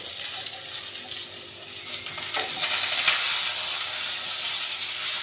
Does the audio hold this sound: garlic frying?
yes